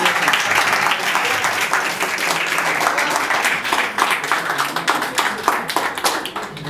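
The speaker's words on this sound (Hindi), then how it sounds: "तुम तालियों से महफिल सजा देना" Steady, dense clapping from an audience at a Hindi-Urdu shayari poetry reading, a full crowd applauding continuously at close range, with sharp individual claps standing out toward the end.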